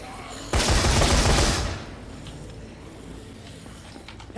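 Rapid burst of video game gunfire lasting about a second, loud and dense, then fading into quieter background game sounds.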